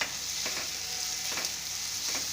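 Paneer, kasuri methi and poppy seeds frying in a pan for Banjara dal, giving a steady close sizzle with a few faint stirring scrapes.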